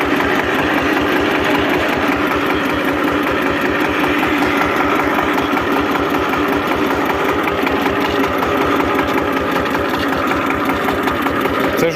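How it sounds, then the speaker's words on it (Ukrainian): Diesel engine of a Lider 220D tractor running steadily at close range, a continuous rhythmic throbbing rumble with a knocking pulse that stays loud and even throughout, with no talk over it. "Залажу на трактор і поїхав."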